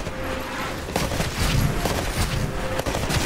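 Dense, continuous weapon fire in Titanfall rattles at shooting-range targets, with sharp reports blending into a loud, steady barrage.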